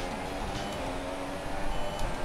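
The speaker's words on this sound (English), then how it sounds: "you get the beep telling you the ideal spot to upshift" An upshift tone beeps in the F1 2017 racing game over a steady engine drone, marked by a thin sustained tonal line that sits above the constant hum of the car.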